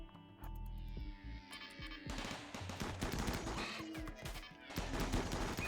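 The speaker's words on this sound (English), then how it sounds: "Now we're gonna get some shooting experience" Colonists in the RimWorld video game open fire: dense, rapid bursts of gunshots rattle in overlapping volleys over a steady droning backdrop, growing busier and louder after the first couple of seconds.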